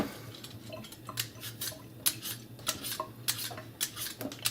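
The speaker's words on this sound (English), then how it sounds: "after a good wash, we are now going to peel the potatoes" Potatoes are peeled by hand after washing, giving a string of short, sharp scraping and clicking strokes at an uneven rhythm, close by and fairly quiet over a low background hum.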